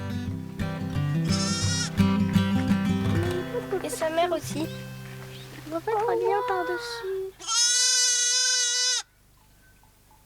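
Goats raised for cheese and meat on a rural Mexican farm bleat loudly and close, in one long sustained cry near the end, after children and adults talking over quieter bleats.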